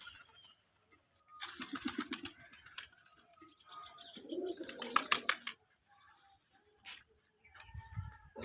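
Desi pigeons coo in bursts at a pigeon farm, soft throaty calls rising and fading among scattered rustles and background farm noise, with long quiet gaps between them.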